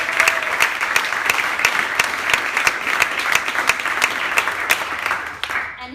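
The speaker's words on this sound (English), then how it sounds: "So really big round of applause for Tom." A roomful of people applauds Tom at a community running event in a store, the steady clapping loud and sustained for several seconds before fading out at the end.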